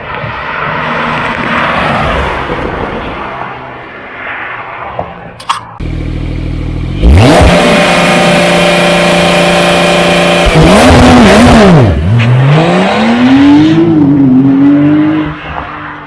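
A Porsche 992 Carrera with its exhaust valves open starts up with a sharp crack and idles, then revs hard several times. The revs rise and fall in loud, close blips, with rumbling idle between them.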